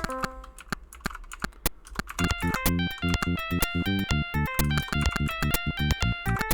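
Rapid, uneven typing on a computer keyboard, sharp clicks stacked closely over a steady electronic game tune with bright chiming tones, no talk.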